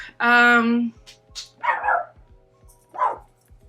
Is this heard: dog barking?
yes